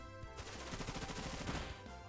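Bullet Seed attack in Pokémon Brilliant Diamond, a fast volley of sharp popping impacts firing in quick succession for about a second and a half, loud and close with a steady game background.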